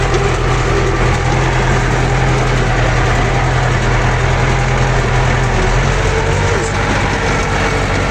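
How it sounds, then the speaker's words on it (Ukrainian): A GAZelle van engine runs poorly, giving a loud, steady, rough drone that holds continuously close by with no talking. "Газулька щось паршиво працює, не хоче сама вертатися назад."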